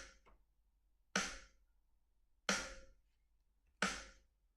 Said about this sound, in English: The snare drum sounds like this.